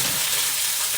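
Beef stroganoff ingredients sizzle and fry in a hot pan, a steady, dense crackling hiss that runs close and unbroken for the whole second with no voices.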